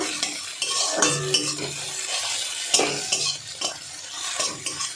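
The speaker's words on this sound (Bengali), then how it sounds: "একদম হালকা করে ভাজতে হবে" Food fries lightly in oil in a home kitchen pan while a utensil stirs and scrapes it in irregular close strokes over a soft, steady sizzle, with no talking.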